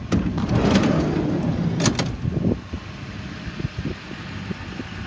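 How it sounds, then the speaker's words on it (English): The sliding side door of a 2007 Ford E-350 passenger van rolls open, a loud mechanical slide with a sharp latch click around two seconds, then quieter ambient noise. "get the sliding door open"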